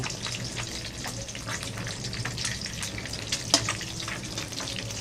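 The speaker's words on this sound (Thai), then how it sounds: "ทอดไข่ไข่ขาวให้เหลืองกรอบเลยนะครับเป็นสไตล์ของผม" An egg frying in oil until the white turns golden and crispy, a dense continuous crackle and sizzle with scattered sharp pops, close and steady throughout with no talking.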